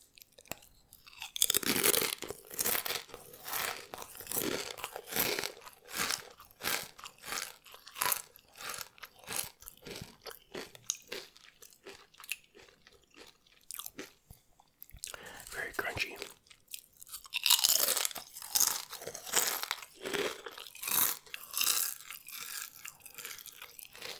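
Regular Doritos tortilla chips crunch up close in repeated bites and chewing, crisp and rhythmic, with soft whispering in between.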